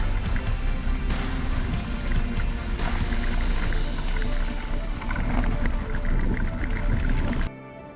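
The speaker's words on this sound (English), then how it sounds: "Listen closely, you might be able to hear the ocean in the background." Ocean surf on the Newfoundland coast along the T'Railway, a steady broad wash of waves that runs continuously and then drops away sharply near the end.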